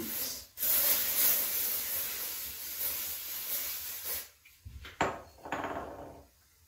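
Dry shampoo aerosol sprayed onto the roots of natural hair: a long, close, loud hiss for several seconds, then a few shorter sprays with quiet rustling between them.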